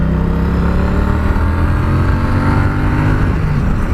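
A Triumph Street Cup 900cc motorcycle engine revs hard up close, a loud, continuous throaty rumble with no voices over it.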